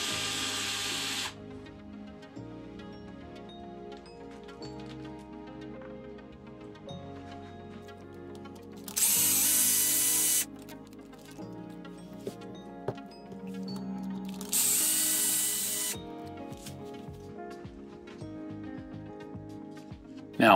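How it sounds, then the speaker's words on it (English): Small power driver backs screws out of the bumper support on an Arrma Boost 4X4 RC car. Two short loud whirring bursts stand out over quiet clicks and handling noises. "Now we need to take the two top screws out of the bumper support."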